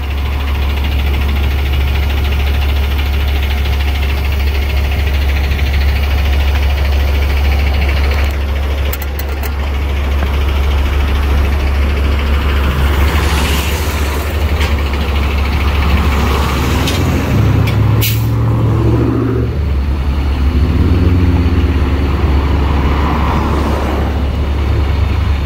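A truck engine idles nearby at a street crossing in Westchester, Los Angeles, a steady low rumble running unbroken throughout with occasional faint traffic sounds layered on top.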